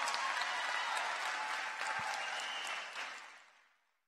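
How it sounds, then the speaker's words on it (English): An audience claps for graduating students at an Augusta Fells Savage Institute ceremony, a dense sustained round of applause that holds steady and then tapers off to silence near the end. "Please give them a round of applause."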